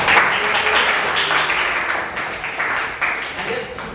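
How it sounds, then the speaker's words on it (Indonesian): A classroom group claps for a presenting student team, steady mid-level applause with a few voices mixed in, fading slightly toward the end. "berikan tepuk tangan dulu dong"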